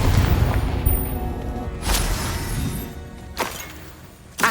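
A Confringo fire-blast spell explodes in Hogwarts Legacy: a loud burst of deep booming rumble that fades over a few seconds, followed by two sharper crashing impacts, the last one right at the end.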